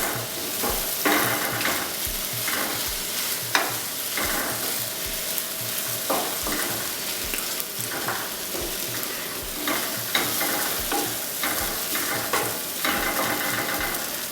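Eggs sizzle and fry steadily in a pan for a breakfast sandwich, with repeated scraping and stirring strokes close by over a constant crackle and no talking.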